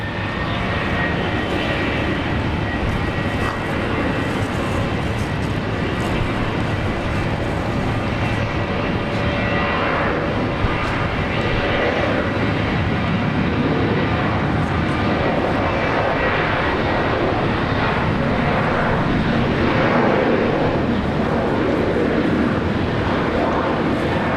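A Delta heavy jet on approach to Brisbane Airport, its engines producing a loud, continuous broadband roar that holds steady throughout.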